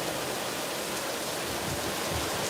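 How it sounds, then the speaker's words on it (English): Heavy monsoon rain pours down on the Las Vegas Strip, a dense, steady roar of downpour filling the scene evenly from start to finish with no voices. "it's still pouring down on the Las Vegas Strip"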